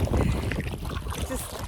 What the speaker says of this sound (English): This wind's getting a little bit hairy.